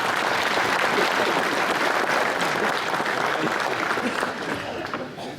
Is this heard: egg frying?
no